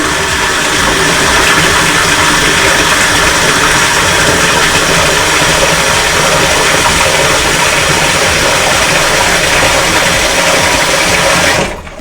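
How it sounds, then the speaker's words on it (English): Tap water runs steadily into a bucket to dilute wig wash, a continuous loud rushing that holds for about twelve seconds before cutting off abruptly at the end. "I just fill up the rest of the bucket and dilute that water down"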